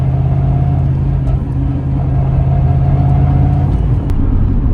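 A 1990s car fitted with a T5 transmission and a 500 hp engine drives along with a loud, steady low engine drone and rumble, close and continuous, with faint road noise over it.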